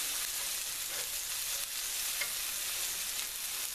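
Lamb burger frying in a grease-coated frying pan, a steady, close hiss of sizzling with faint crackles running unbroken throughout.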